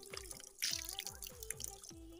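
Water from a tilted outdoor tap spout drips and trickles in a steady rhythm of quiet, evenly spaced drops over a soft running flow, faint and close.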